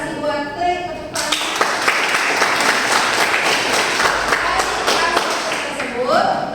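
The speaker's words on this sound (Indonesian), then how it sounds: "Tepuk tangan." Classroom applause from a vocational high school maths class, a sustained burst of many hands clapping close by for several seconds, with a voice briefly heard near the end.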